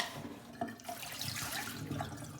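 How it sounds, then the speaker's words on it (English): Tap water running over rice being rinsed in a kitchen, a faint, continuous trickle with small splashes and clinks. "you're going to rinse it. Just like we rinse the lentils."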